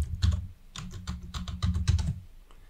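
Someone types a password on a computer keyboard in quick bursts of close, crisp key clicks, with a short pause between flurries.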